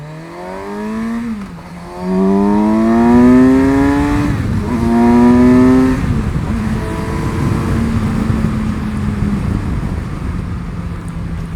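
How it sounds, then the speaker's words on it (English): Kawasaki Versys 1000 SE inline-four motorcycle accelerating hard, the engine pitch climbing through several gears with brief dips at each shift before settling into a steady high-speed roar mixed with wind noise. "let's see what the bike does acceleration wise."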